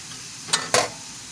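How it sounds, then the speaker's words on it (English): A utensil scrapes twice through a hot skillet of garden vegetables as all-purpose flour is stirred into the fat, two short gritty strokes over a steady soft sizzle, close and alone. "I've got some all-purpose flour that I'm adding to my skillet."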